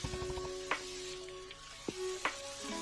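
Garlic chili noodles sizzling in a hot pan while being stirred, a steady quiet frying hiss with a few sharp scraping clicks from the utensil and a faint tonal hum in the background.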